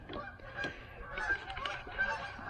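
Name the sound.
geese honking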